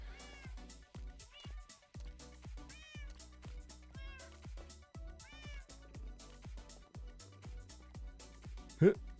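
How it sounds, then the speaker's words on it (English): Repeated meows of several Minecraft cats in the video game, one after another in a steady run, with a person talking over them and a brief louder sound near the end. "Okay, kitties, come on. Come on, kitties."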